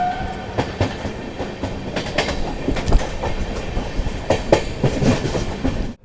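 A Bharat Gaurav Deluxe tourist train rolls along the rails with steady rumbling and repeated clickety-clack wheel beats throughout, loud and close, no voices.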